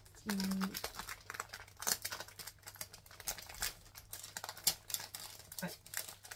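Close, busy crinkling of paper packing from an unboxed parcel, sharp rustles and crackles in quick irregular bursts, with a short tone near the start.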